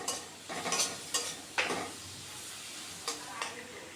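Spice paste with ginger paste and tomato sauce for chicken noodles, fried and stirred in a pan: several separate scraping strokes of a spatula over a faint, continuous sizzle, close by and with no talking.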